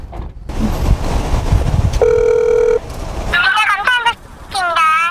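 Ringback tone of an outgoing phone call placed while searching a residential alley in Nam-gu, a single steady electronic ring tone in the middle, with street noise before it and speech after.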